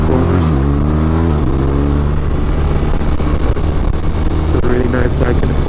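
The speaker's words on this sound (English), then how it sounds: "It's a really nice bike in the corners as well." A 2023 BMW R1250RT motorcycle engine droning and shifting pitch through corners, loud and steady with wind noise, while a rider talks over it.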